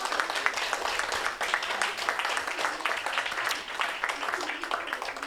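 An indoor audience applauds newly elected children of a children's municipal council. The dense, steady clapping fills the room and carries on evenly for the whole stretch.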